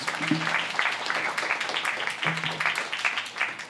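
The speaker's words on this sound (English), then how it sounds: "let's go ahead and give her a round of applause" Church congregation applauding after a baptism at a Baptist service, steady sustained clapping from many hands filling the room, with a faint low tone in the background.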